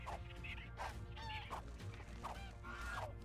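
Honking, goose-like bird calls from dodos in the mobile video game ARK: Mobile, four or five short squawks spaced through a steady game background, close and moderately loud.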